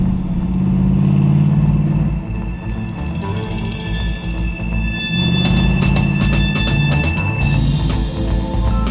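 A 1965 Sunbeam Tiger with its Ford 260 V8 drives down an open road, the engine humming steadily, then revving louder through gear changes around the middle and staying close and prominent throughout.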